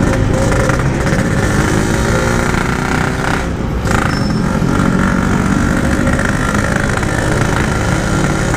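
Motorcycle engine heard while riding in traffic, a loud, steady rasping drone close to the microphone with slight throttle variation throughout, mixed with road and wind noise.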